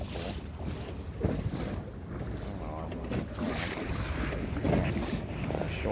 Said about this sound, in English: This must be another boat.